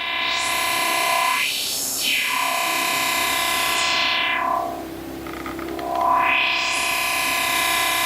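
DJ controller slicer performance pads chop a dubstep-style bass tone with effects, producing a loud, continuous distorted electronic sound with filter sweeps rising and falling, alone without talk.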